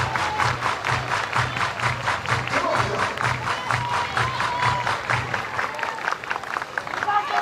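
A softball stadium crowd at a Florida versus Florida State women's college game claps in a steady, even rhythm, loud and sustained, with crowd voices mixed into the beat.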